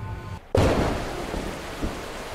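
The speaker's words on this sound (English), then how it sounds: "a storm is raging." In Super Weasel Kid, a thunderstorm rages with steady rain hiss, then a loud, close thunderclap bursts in and rolls off into a long rumble under the downpour.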